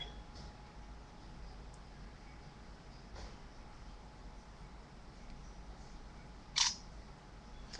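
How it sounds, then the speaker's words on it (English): A single quick shutter click from a Samsung Prevail phone camera sounds once in a quiet room, short and crisp against faint background hiss. "you can change the shutter sound or whatever"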